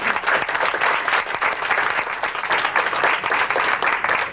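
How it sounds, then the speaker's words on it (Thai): A seated audience at a youth traditional-culture camp event claps in sustained, dense applause honouring a foundation teacher, loud and even throughout without any voices on top. "ขอเสียงปรบมือดังๆให้ท่านอีกครั้ง"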